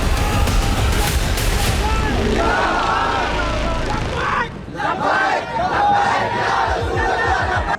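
A protest crowd shouts slogans in a dense, loud roar of voices, surging and briefly dipping before rising again, with a distinct voice cutting through near the end.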